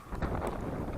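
Strong headwind buffeting the microphone on a bicycle ride, a continuous low rumbling roar that fills the whole short moment without a break.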